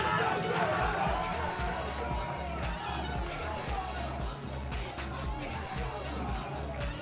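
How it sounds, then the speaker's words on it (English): Rugby crowd at a Saracens Women match cheering as the players come onto the pitch, a dense sustained roar of voices and chatter with sharp claps and shouts flickering through, loud and steady throughout. "cheering the players onto the pitch"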